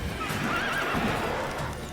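Roach, the horse in The Witcher 3, lets out a loud close whinny with hoof clip-clops mixed in, rising and falling over about two seconds with no talking.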